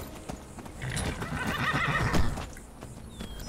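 A horse in the Skyrim video game neighs loudly and whinnies while its hooves clop, in a short burst in the middle of the sound.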